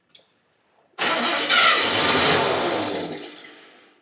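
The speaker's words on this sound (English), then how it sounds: "Okay, let's crank the engine." After a brief click, a car engine cranks and catches, roaring up loudly and then settling and fading as it runs, during a starter health test.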